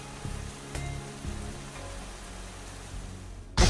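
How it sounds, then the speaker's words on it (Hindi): Heavy rainstorm in an animated Hindi fairy tale: a dense, steady hiss of pouring rain with a few heavier splashes and a loud burst at the very end. "बादल गड़गड़ा रहे थे, बिजली चमक रही थी और बहुत तेज बारिश हो रही थी।"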